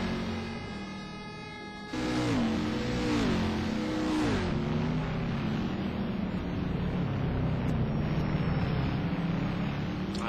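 Race car engines in the STC Blue Cup at Trois Rivieres, a steady droning whine with a sharp rise in pitch and falling sweeps as cars pass and shift, continuous and moderately loud.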